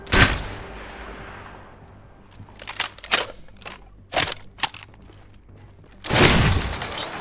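Bursts of gunfire from an Apex Legends match, several sharp volleys spaced irregularly with a loud sustained burst near the end, fading decay after the first shots.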